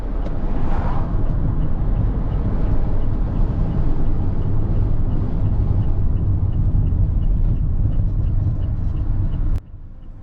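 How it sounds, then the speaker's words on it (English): A car drives along the A1174 main road between Hull and Beverley in Woodmansey, East Riding of Yorkshire, with a steady, loud low rumble of engine and road noise from inside the vehicle, cutting off abruptly near the end. "Let's get in the car and drive through that one."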